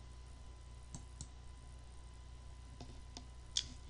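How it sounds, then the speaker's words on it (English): A handful of faint, sharp computer mouse left clicks spaced irregularly, one slightly louder near the end, over a low steady room hum. "I will left click on the speech icon."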